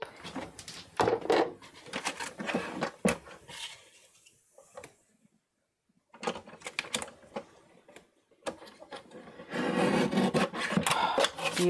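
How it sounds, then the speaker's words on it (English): Paper trimmer cutting card at a craft table, a series of short scraping and clicking slides in irregular bursts, close and fairly loud, separated by pauses. "I can use my trimmer to trim it down"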